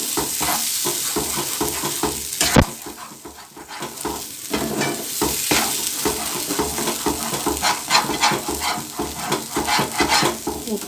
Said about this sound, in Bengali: দিয়ে একটু নেড়ে নেব যাতে কাঁচা যে কড়াইশুঁটির গন্ধটা সেটা আর থাকবে না তেলে